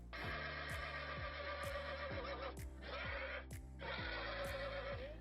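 A horse in the Star Stable video game gives a loud, close whinny, followed by more neighing and snorting bursts with clip-clop hoofbeats underneath.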